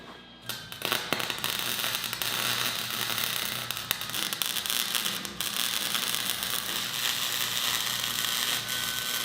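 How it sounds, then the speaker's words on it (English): A welder tacks bolts onto metal ground down to bare steel, giving a steady, close crackling buzz that runs almost without a break, with a few sharper pops. "And let's get these tacked on."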